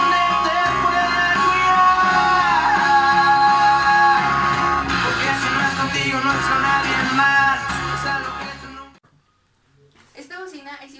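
Repaired 6x9 woofer fitted with a plastic cone and a slightly rubbing voice coil plays music loudly and up close for several seconds, then cuts out into near silence with a brief faint sound at the end.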